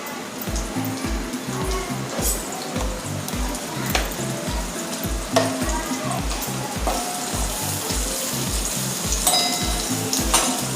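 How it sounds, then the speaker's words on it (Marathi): Onion and asafoetida fry in hot oil as the base for a Malvani-style fish curry. A steady, close sizzle runs throughout, with regular rhythmic stirring scrapes in the pan and no talk. "एक कांदा टाकते आता फोडणीला."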